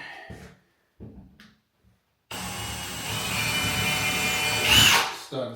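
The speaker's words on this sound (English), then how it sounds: "as it drills in on an angle, it pulls it from the wall" A power drill drives a screw at an angle into wood, a close, loud whirring burst lasting about three seconds that rises near the end, preceded by brief handling knocks and quiet moments.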